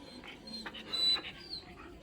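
A dog makes a few soft, brief sounds, close by and faint, among quiet background noise, with a brief sharper sound near the middle.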